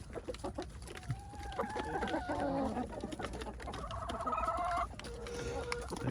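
Backyard chickens in the snow cluck and murmur nearby in a steady flock chorus, with drawn-out calls rising over a constant background hum.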